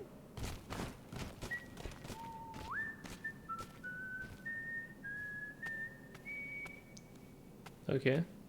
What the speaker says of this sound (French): Je siffle.